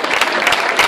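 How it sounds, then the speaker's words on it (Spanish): Brief burst of loud, dense applause from an audience at a folk music memorial event, many hands clapping close and steady for under a second. "Fuerte el aplauso para ellos."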